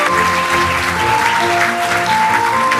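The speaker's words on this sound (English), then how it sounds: "Why don't you give a big round of applause to cooperate with the safe utilization of AI?" Loud applause from delegates at a global AI forum in Seoul, continuous clapping over steady tonal background music with sustained notes.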